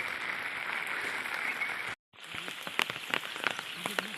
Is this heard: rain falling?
yes